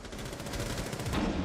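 Dense rapid gunfire from a Rainbow Six tactical shooter gunfight, a continuous burst of closely spaced shots with no gaps, loud and close, with no talk.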